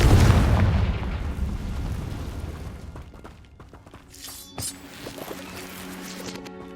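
The Confringo fire spell exploding in the Hogwarts Legacy video game, a deep booming blast that opens loud and rumbles away over several seconds, followed by fainter crackling debris and magical shimmer, no talk.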